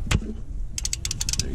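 A ratchet works loose the 15mm oil drain bolt on a 2012 Ford Focus SE, a quick run of about nine sharp metallic clicks after a dull knock, close and clear without talking.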